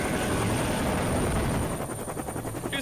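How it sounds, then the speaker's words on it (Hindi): A helicopter in the video game Free Fire drones steadily with a continuous rotor and engine roar that stays loud and close throughout, with no talk over it. "हेलीकॉप्टर लैंड करने के लिए कोई जगह नहीं मिल रही है।"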